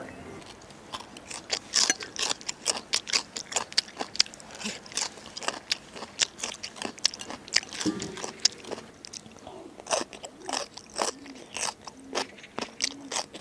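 Someone chews crunchy spicy radish strips, with rapid, close, crisp bites and crunches in an uneven rhythm and faint background sounds.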